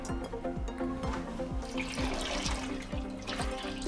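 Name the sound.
water poured into pan with washed masoor lentils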